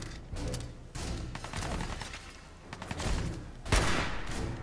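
Gunfire in the video game Fallout 4, a run of loud shots and bursts spread across several seconds with brief gaps between volleys and a sharp, heavier blast near the end, with no talking over it.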